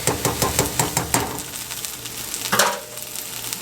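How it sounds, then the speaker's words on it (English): About a tablespoon of garlic sizzles in a little oil in a pan for beef and broccoli, with rhythmic stirring clacks and scrapes up close, followed by a louder burst of sizzle. "We're just going to give this a mix. Just cook it until you can smell it, about 20-30 seconds or so."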